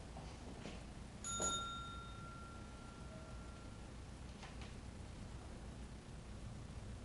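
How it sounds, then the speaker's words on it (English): A service bell at an office counter struck once, giving a single bright ring that decays slowly over a steady background hiss, followed by a fainter tap a few seconds later; no one speaks. "Ring the bell there, there you go"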